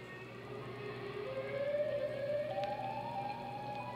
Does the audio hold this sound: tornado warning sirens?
yes